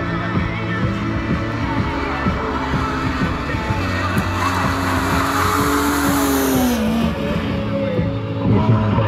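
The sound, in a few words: BMW E36 drifting with tire squeal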